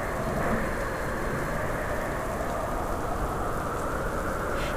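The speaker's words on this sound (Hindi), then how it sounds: "आसमान में बिजली के साथ तेज बारिश शुरू हो जाती है।" Heavy rain pours in a dense, steady roar with a low rumble underneath, continuous from start to finish.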